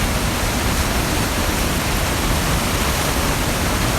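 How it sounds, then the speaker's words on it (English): Waterfall about 30 to 40 feet tall at the Feather River Fish Hatchery, a steady, loud broadband roar of falling water that stays constant throughout, with no voices. "get another wonderful shot of this waterfall, which seems small there, but it's actually about 30 or 40 feet tall"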